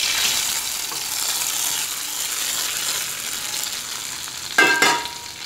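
Hot tempering of mustard seeds, chilli and curry leaves poured into a pan of mashed greens, a steady sizzle and crackle throughout with a sharper, louder burst of hissing near the end as the oil hits.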